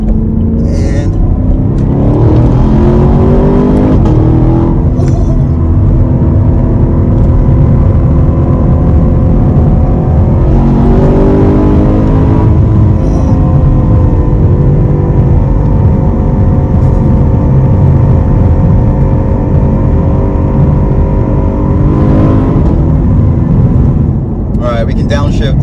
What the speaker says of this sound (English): we can downshift, third gear on the gas. Oh, whew. Those shifts are immediate.